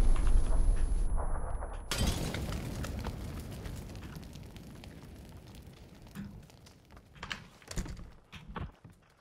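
A grenade blows up in PUBG gameplay, one heavy booming burst with debris that fades over several seconds, loud and close, with scattered clattering afterward.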